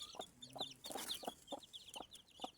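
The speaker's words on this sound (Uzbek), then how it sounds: "Bu tovuq quturdimi?" A hen, with newly hatched chicks nearby, clucks in short repeated bursts at a steady rhythm, close and fairly loud, while high thin chirps sound above the clucks.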